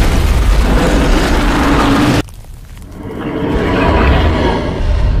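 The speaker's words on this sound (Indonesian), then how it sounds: "Dentuman bom menghancurkan segalanya yang ada di sana." A huge bomb blast booms out loud and close, a dense roaring burst that cuts off sharply, then a rumbling debris-filled aftermath swells again, with no voices.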